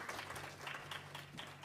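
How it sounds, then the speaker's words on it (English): Audience applause for guests at the close of a diversity panel discussion, a short burst of steady clapping from a modest crowd at moderate distance. "Can we give all of our guests a round of applause?"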